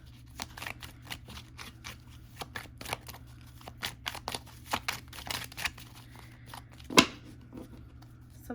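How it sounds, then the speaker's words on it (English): Tarot cards being shuffled by hand, a rapid series of crisp riffling flicks and taps in uneven bursts, close and fairly soft, with one sharper snap near the end. "Something tells me to shuffle a few more times."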